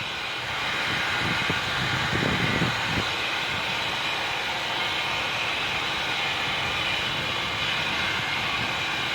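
A running Oldsmobile Silhouette minivan engine with a hard-starting fuel system fault, a steady broadband idle hum and whir heard close by, with a brief rumbling surge early on.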